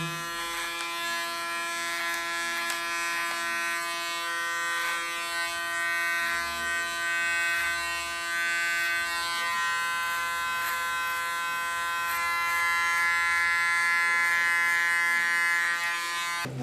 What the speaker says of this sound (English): with a clipper it's easier to do